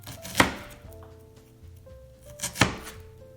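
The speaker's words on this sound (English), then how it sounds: "look at that onion chopping right there" Two sharp, loud knife strokes chopping onion on a cutting board, spaced about two seconds apart, in a home kitchen, with faint background hum between the cuts and no speech.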